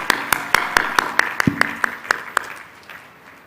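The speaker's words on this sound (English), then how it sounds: "Give them a big round of applause" A small group claps for graduates at a university convocation ceremony, a sparse run of distinct, fairly loud claps at a quick rhythm that thins out and fades toward the end.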